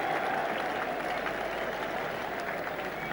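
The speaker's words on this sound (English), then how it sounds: "It's something for the Surrey crowd to cheer." Surrey crowd at a 1994 NatWest Cup semi-final cricket match against Worcestershire, applauding a good shot: sustained steady clapping and cheering from a large crowd at a distance, filling the whole stretch without voices on top.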